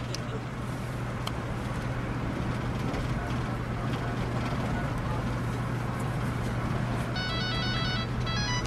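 A phone rings indoors with a repeating electronic trill near the end, over a steady low hum and room noise, with no talking.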